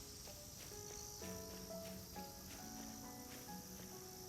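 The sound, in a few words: cicadas calling in the video game Nostalgic Train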